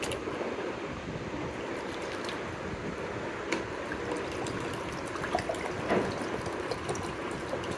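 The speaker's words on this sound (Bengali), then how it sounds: "ফ্রিজের ঠান্ডা পানি দেব।" Cold water from the fridge being poured into a jug of blended mango puree, a soft continuous trickling splash at moderate volume, with no talking.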